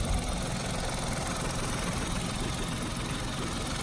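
A 2014 Kia Morning Van automatic, imported from Korea, idling steadily close up, a smooth continuous engine drone with no talk over it.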